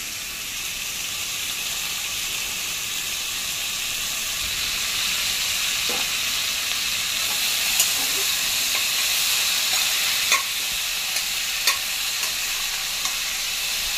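Tomatoes go into a hot pan of vegetables for pav bhaji, setting off a loud, steady hissing sizzle close by, with a few faint clicks of a spoon against the pan.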